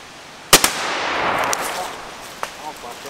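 A gunshot fired at a farm cracks loudly up close, followed by a quick second report and a long fading echo, with a fainter sharp crack a couple of seconds later.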